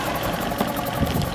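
A small pull-start outboard boat engine idles close by with a steady, rough mechanical chugging and faint knocking, with no voices over it.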